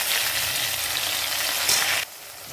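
Whole spices sizzle in hot oil with a steady, close crackling hiss that drops off abruptly near the end.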